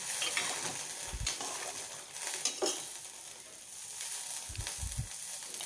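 Eggplant, broad beans and a little pumpkin frying in a pan for sambar, a steady sizzle throughout with a few low stirring knocks against the pan.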